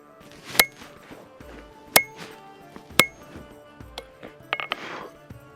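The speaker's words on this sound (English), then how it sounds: "last time I used a lighter hammer and I think that was a mistake. So I am using a heavy one now." A heavy hammer forging a Sgian dubh knife rings out in three sharp, metallic blows about a second apart, followed by a cluster of lighter clinks and taps near the end.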